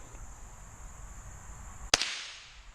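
A single Henry Classic rifle shot fired while sighting in at bottles outdoors: one sharp crack with a short fading tail, heard at a distance after a stretch of quiet with a steady insect-like hiss.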